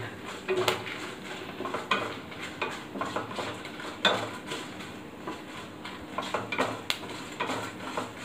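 Dried red chillies roasting in a pan for a gooseberry thokku, giving close, irregular scraping and clinking of a spatula against the pan with a faint sizzle underneath, steady throughout with no talking.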